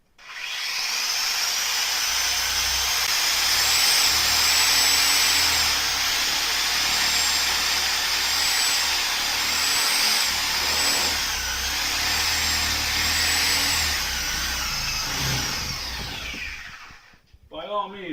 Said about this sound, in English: by all means, you can use the Sawzall to cut your meat